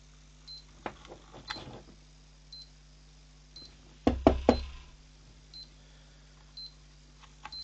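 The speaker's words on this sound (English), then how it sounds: "The power supply is making a very dodgy noise. And this is beeping" A faulty PC power supply gives off scattered clicks and ticks, with a cluster of sharper knocks midway, while faint short beeps repeat at intervals over a low steady hum; quiet and close.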